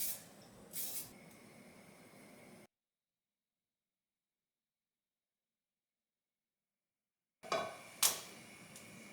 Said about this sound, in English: So I have this baking spray.